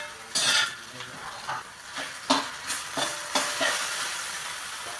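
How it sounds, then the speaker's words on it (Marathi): Eggplant fries in oil in a pan over a high gas flame, with a soft sizzle beneath a series of quick stirring scrapes and clatters that come roughly every half second, fairly quiet and close. "गॅसचे फ्लेम थोडे हाय करून व्यवस्थित हे तेलामध्ये तळून घ्यायचं आहे"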